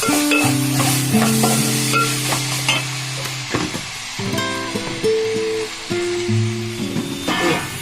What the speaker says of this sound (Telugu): టమాటాలు వేసి కొంచెం సాల్ట్ వేసుకుంటే టమాటాలు బాగా మగ్గిపోతాయి